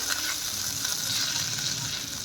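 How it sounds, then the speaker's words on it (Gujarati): Ketchup sautéing in a hot pan for a roti snack with garlic and Schezwan sauce, a steady close, loud crackling sizzle with soft stirring and no break. "બે મોટી ચમચી જેટલો આપણે કેચઅપ લેવાનો છે અને એને પણ આપણે સાતરશું"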